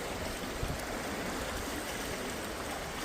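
Spring-fed creek swollen after rain flows with a steady, dense rushing wash, constant and moderately quiet with no breaks or voices.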